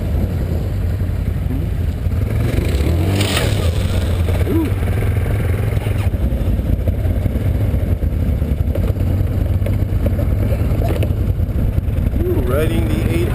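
A 2013 Can-Am Outlander 1000 Max XT ATV rolls downhill on a trail run, its engine a steady loud drone with wind buffeting and rattles, while people talk over it.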